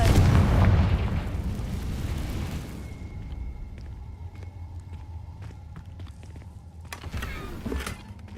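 A fire spell going off in a magic-themed video game: a loud rumbling blast right at the start that decays over a few seconds into quieter crackles and small pops, with another softer burst near the end.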